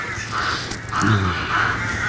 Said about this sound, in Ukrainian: постійне каркання птахів зранку до вечора не дає спокою у квартирах